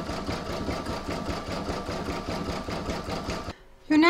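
An embroidery sewing machine stitches a zigzag along the join of an in-the-hoop placemat. The needle chatters rapidly and evenly, then stops abruptly, and a voice begins speaking just after.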